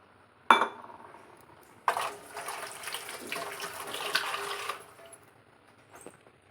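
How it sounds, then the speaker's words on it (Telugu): After a brief clink, water pours steadily into a bowl of gram flour batter with coriander for potato bajji, about three seconds, close and quiet, followed by faint clatter. "ఇందులో వాటర్ పోసుకోవాలి"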